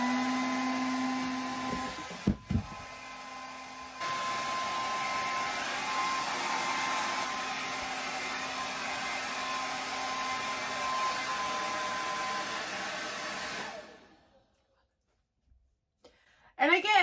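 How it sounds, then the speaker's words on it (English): A blow dryer in an RV camper runs with a steady loud whir for about fourteen seconds, briefly dropping out near the start, then cuts off abruptly when the power fuse blows, leaving near silence. "I'm done with this blow dryer."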